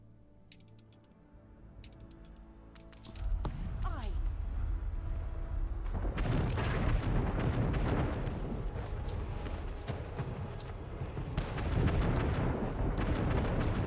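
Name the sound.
cannons firing in the video game Anno 1800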